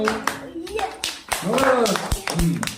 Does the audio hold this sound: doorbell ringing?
no